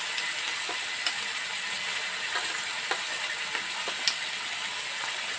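Chili paste frying with garlic in hot oil gives a soft, steady sizzle with scattered small pops and crackles, quiet and close, with no talk over it.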